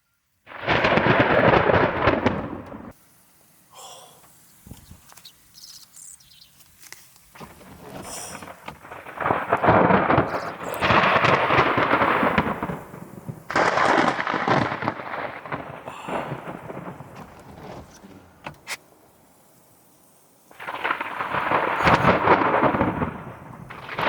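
Repeated bursts of loud thunder from a barrage of supercell lightning, with several long rumbling crashes separated by quieter gaps and rain and wind underneath.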